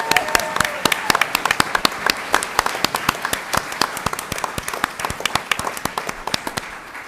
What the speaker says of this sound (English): Insert applause.